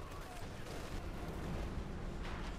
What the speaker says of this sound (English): artillery called in here using the mechanised company artillery badge, which is swift and ruthless